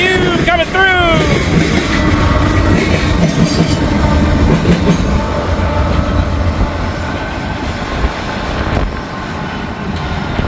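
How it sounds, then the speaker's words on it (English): Norfolk Southern train 170 rolls close by through a work zone in high winds, a loud continuous rumble of rail cars with clickety-clack and occasional wheel squeals, wind noise beneath it all. "Norfolk Southern train 170."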